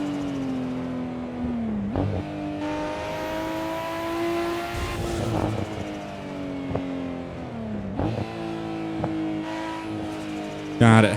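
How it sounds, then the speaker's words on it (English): Nissan Skyline GTR R34 in the Assetto Corsa racing game at the Nurburgring, its engine droning steadily with rising and falling revs, gear changes, and crackling exhaust burbles on lift-off, while someone talks over it. "God, it has like those exhausts like burbles too"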